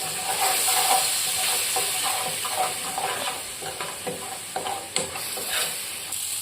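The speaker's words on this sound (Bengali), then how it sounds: "হালকা করে ভেজে এটা মশলাটা দিলাম এবং একটু মতন জল দিয়ে দেবো" Mixed whole spices (cumin, coriander, fennel) crackle and sizzle in a pan for kachori filling as water goes in, with scattered sharp pops and a steady hiss throughout, close and fairly loud, no talking.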